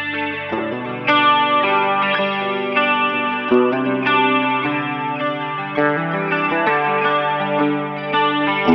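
A 2001 Gibson ES-175 sunburst electric guitar plays a steady run of chords and notes through chorus and reverb effects, full and loud, with shimmering sustained tones and no talking.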